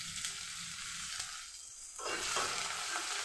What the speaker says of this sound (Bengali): একটু ভেজে নেব।